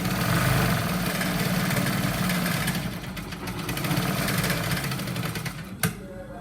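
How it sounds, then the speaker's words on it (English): Sewing machine stitching trouser fabric, a steady mechanical whir running continuously at close range, ending with a sharp click near the end. "Now place it under the sewing machine. Now start the sewing."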